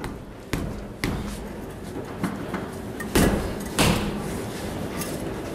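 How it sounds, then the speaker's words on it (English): Several sharp metallic taps of a hammer on a car brake part during a brake job, at uneven intervals, close by, with quieter knocks between them and no talking. "with a gentle touch of the hammer"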